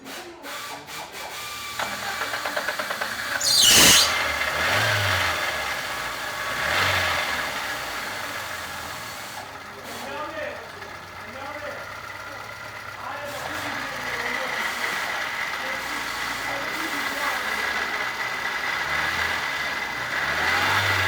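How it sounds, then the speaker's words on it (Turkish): A Lada Vega 1.5 engine cranks, catches and settles into a running idle with some revving, heard close up in a workshop with people talking over it. "Araçtaki işlemlerimiz başlamadan önce bir marş yapıyoruz."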